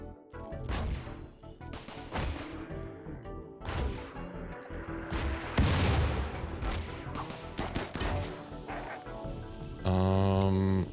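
Heavy mortar blasts and bursts of gunfire in a combat video game, repeated loud crashing impacts over a steady din, ending in a harsh sustained tone.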